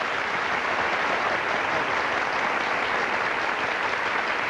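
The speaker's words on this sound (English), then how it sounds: "Little applause for the doc." A studio audience at a 1990 daytime talk show applauds a dermatologist guest with steady, dense clapping that holds at an even level throughout.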